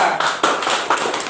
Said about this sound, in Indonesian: Tepuk tangan dulu untuk Fajar.